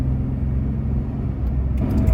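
Air-cooled Porsche 911 cruising steadily in fourth gear, a continuous low engine drone and rumble with a faint whine, heard from inside the car with no talk.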